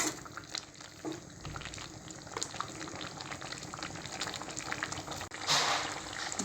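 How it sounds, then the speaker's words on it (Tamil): A pot of bitter gourd tamarind curry bubbles steadily, a soft continuous simmering hiss with small pops throughout, close and fairly quiet, with no voices. "இது இன்னும் ஒரு 10 நிமிஷத்துக்கு இது நல்லா கொதிச்சு வரட்டும்."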